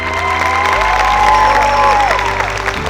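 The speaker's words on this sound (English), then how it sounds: "give a roaring round of applause for all these shareholders" Loud, roaring applause and cheering from a crowd honoring shareholders at a finale event, dense and continuous with a low rumble and some tonal sounds over it, no speech.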